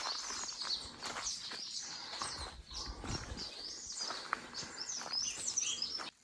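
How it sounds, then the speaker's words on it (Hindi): Many small birds chirp and tweet continuously near the main gate of a hill lodge at Binsar, a busy, bright chorus with overlapping calls close by and no talking. "कार के पास इस तरफ मेन गेट पर काफ़ी सारी चिड़ियाएँ हैं"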